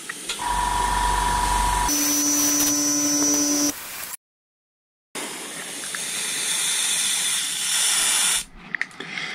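An airbrush sprays red paint onto a Kyosho Pegasus RC car body, giving a steady close hiss in long bursts with a brief silent pause between sprays.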